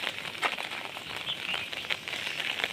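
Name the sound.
heavy rain falling on surfaces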